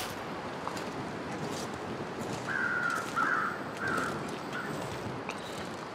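Crows caw a few times at middle distance in the snowy wilderness of the survival game The Long Dark, over a steady wind-like outdoor hiss, with no talking.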